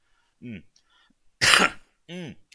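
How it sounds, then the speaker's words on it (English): A single rough cough bursts out between two short spoken sounds, close and fairly loud. "I'm going to cough again."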